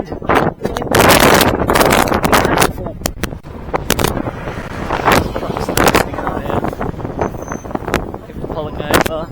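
Strong wind gusts across an open, treeless plateau in Somerset, roaring in loud bursts into the microphone while people talk over it.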